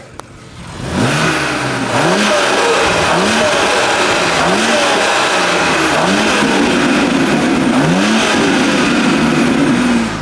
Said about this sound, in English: Now we're gonna get some turbo sounds from the front.